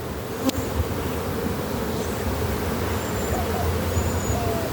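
A dense, continuous buzzing of many honeybees fills the air, close and steady, with a sharp tick near the start.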